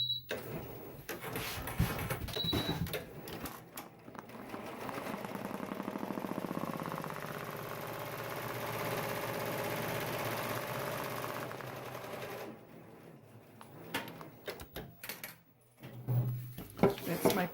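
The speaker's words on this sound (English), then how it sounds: "Okay, so the first thing that's going to stitch is the guide run." An embroidery machine stitches the guide run for an in-the-hoop USA flag patch. It makes a steady, close mechanical whir that runs for several seconds, with handling clatter before and after it and no talk over it.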